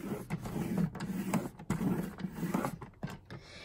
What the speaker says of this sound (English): I'm going to score with the scoring blade on my Stampin' trimmer.